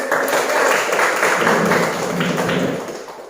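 A classroom of students applauds a group presentation, a dense wash of many hands clapping together that holds steady and then tapers off at the end.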